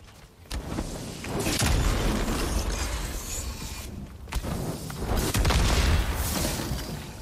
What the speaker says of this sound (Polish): Użyj L2 i R1, by rzucić naczynie z olejem, wywołać potężną eksplozję